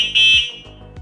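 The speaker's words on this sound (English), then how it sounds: "with the horn button, when you do press it, it is so loud." A loud, piercing high-pitched electronic horn beep from a Dragon Lighting V2 2024 electric bike, sounding in one sustained burst, then short repeated blips up close.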